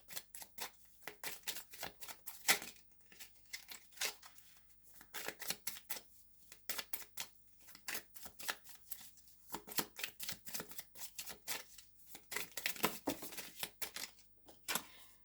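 Tarot cards being shuffled and drawn, a dense stream of crisp riffling flicks and soft snaps in irregular bursts, close and moderately quiet.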